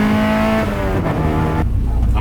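A Honda H22A-powered car idles and revs lightly at very low throttle, with a steady engine drone and harmonic tones that shift before dropping lower near the end; no one talks over it.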